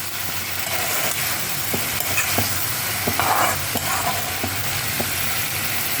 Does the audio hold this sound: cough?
no